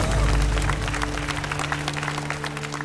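A studio audience at the Vietnam's Got Talent 2014 semifinal results show breaks into dense clapping, loud and continuous, with a low sustained musical hum underneath.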